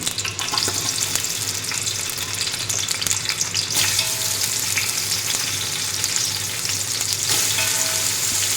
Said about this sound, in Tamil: நான் வெங்காயம் போடுறேன்.